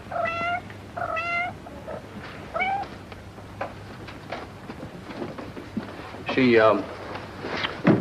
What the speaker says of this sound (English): My poor kitties.